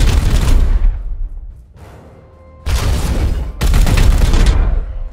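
Heavy bursts of gunfire in the strategy game Chaos Gate: Daemonhunters, loud booming volleys in about three blasts separated by a short quieter gap.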